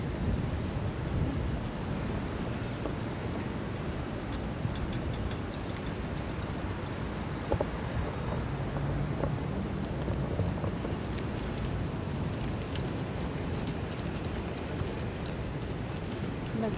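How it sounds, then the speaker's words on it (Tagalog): Strong wind in Wellington blows in a continuous, loud rushing buffet against the microphone, steady for the whole stretch with slight gusty swells and no clear speech. "Malakas talaga lagi ang hangin dito sa Wellington."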